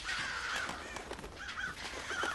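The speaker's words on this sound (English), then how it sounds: "They're going a bit crazy in their cages." Caged birds in the Thief video game squawking, harsh crow-like caws repeating in short bursts over a noisy indoor ambience, fairly faint and close together.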